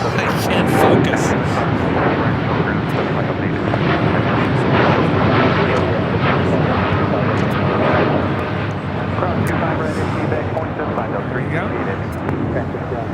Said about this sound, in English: This is Japan Airlines Flight 69 taking off to Osaka on a 787-9 Dreamliner.